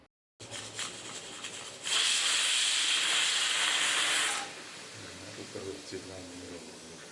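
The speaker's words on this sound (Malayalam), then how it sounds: "പച്ചരി വേവിക്കാൻ വെച്ച ഒരു നാല് വിസിൽ നമ്മൾ അടിച്ചെടുപ്പിച്ചിട്ടുണ്ട്" A loud hiss of steam from a pressure cooker cooking raw rice rises suddenly, holds for a couple of seconds, then fades to a softer background rush with faint clanks.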